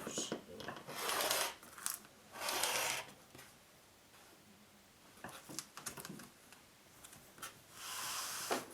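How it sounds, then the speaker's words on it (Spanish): Fabric for a baby quilt is cut along a ruler, giving bursts of broadband scraping and rasping that rise and fade over several seconds, close and moderately quiet, with no talk. "Ponemos así la regla. Y cortamos."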